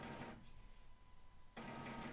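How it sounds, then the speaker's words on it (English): A home printer running in the background, a faint mechanical whir and rattle that stops briefly in the middle and then starts again, quiet and steady. "That is my printer."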